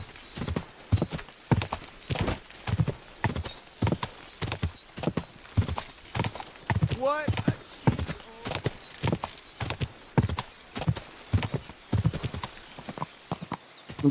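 Horse hooves clip-clopping steadily in Kingdom Come: Deliverance 2, a close, even walking rhythm of crisp knocks, a brief whinny rising midway, and someone talking faintly over it.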